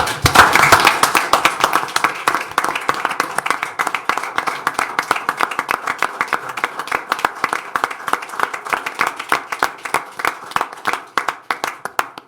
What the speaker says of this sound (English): Could we give a round of applause, please?